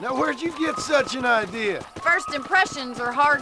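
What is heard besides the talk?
None of the usual background noises is heard.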